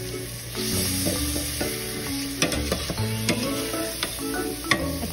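Tomato puree masala bubbles and sizzles in an oily pan for chole masala while a spoon stirs it, the steady frying hiss broken by repeated clinks and knocks of the utensil against the pan, close up.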